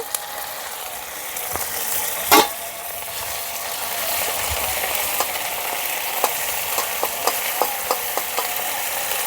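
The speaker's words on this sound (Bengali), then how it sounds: "দিয়ে দিচ্ছি আদা বাটা, শুকনো লঙ্কা বাটা, জিরে বাটা" Ginger, dry red chili and cumin paste frying in a pan, a steady soft sizzle throughout with a sharp scrape near the start and a string of light metallic ticks from a spatula toward the end.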